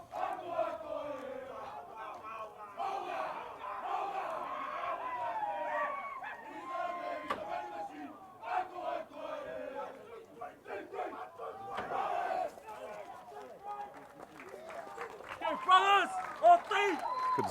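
Schoolboy rugby players from MAGS perform a rhythmic chanted war cry with shouted calls and stamping, followed by a crowd cheering and clapping, lively and moderately distant across the field.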